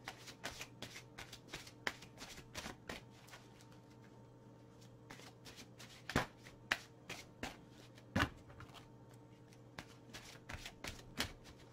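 Tarot cards being shuffled by hand, soft papery riffles and taps recurring irregularly with a few sharper snaps, close and fairly quiet over a low steady hum.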